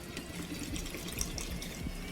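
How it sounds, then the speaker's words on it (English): Cold or lukewarm water poured into a container holding a bag of coffee grounds, a steady, continuous splashing pour that fills the container, close and fairly loud, with no talking. "you want to fill the container up with either cold water or lukewarm water like this. So you want to pour this in"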